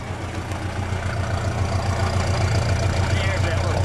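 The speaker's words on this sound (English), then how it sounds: "Let me get a little exhaust note there." A 1958 English Ford Consul convertible engine idles steadily with a low, even exhaust burble that grows slightly louder, with no other sounds over it.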